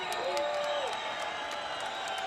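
An arena crowd cheers and applauds after the BJ Penn vs Jens Pulver fight, a steady, distant wash of roaring and clapping that holds throughout, with a commentator talking over it.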